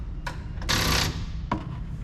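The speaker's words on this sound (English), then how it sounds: "Now what I'm going to do, I'm going to tighten the bolts on top." Top bolts of a fog light kit are tightened on a 2025 RAM 1500 bumper, giving a few short ratcheting bursts with one longer buzzing stretch in the middle, close and fairly quiet.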